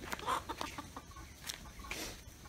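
Chickens cluck in short, irregular bursts close by on a rural farm plot in Pará, Brazil, with outdoor background noise around them.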